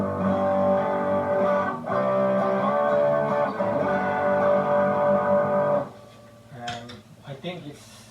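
An electric guitar plays through a Boss DS-1 distortion pedal with gain nearly maxed, thick sustained distorted chords ringing loudly for about six seconds, then cutting off into quieter string noise and picking.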